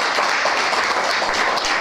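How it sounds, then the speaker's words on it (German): A short burst of audience applause follows a literary reading by an author, a dense, even wash of clapping lasting under two seconds. "Applaus"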